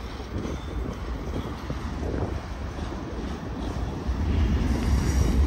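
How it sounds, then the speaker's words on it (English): A Union Pacific freight train carrying a clean auto rack car rumbles past outdoors in Dallas, Texas, a steady low roar mixed with wind buffeting the microphone that grows louder near the end. "Oh, that's a clean Union Pacific auto rack car."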